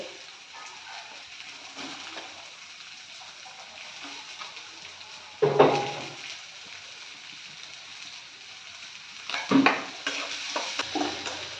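Finely chopped onions fry in a pan with a steady soft sizzle, broken twice by louder scraping stirs of a spoon against the pan, close and alone without speech.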